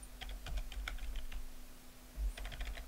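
Typing SAS code on a computer keyboard, with close, crisp keystrokes in two short bursts separated by a pause, and no voices.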